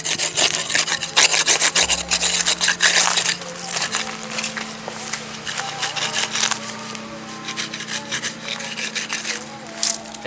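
Hands scrubbing a megalithic stone menhir clean without hard tools, a steady rasping rub of repeated strokes, close and fairly loud, with a low hum underneath.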